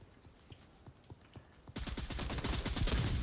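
Gunfire in the VR shooter Onward: a few scattered shots at first, then a sudden dense, loud fusillade of rapid overlapping shots that continues to the end.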